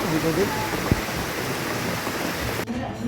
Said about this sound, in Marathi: पुन्हा एकदा मुसळधार पाऊस सुरू झालेला आहे संध्याकाळचा